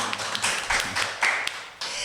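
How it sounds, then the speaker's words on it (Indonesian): A small audience claps hands at a podcast recording, short uneven bursts of tapping claps, fairly faint and close, ending after about two seconds. "Tepuk tangan juga dong."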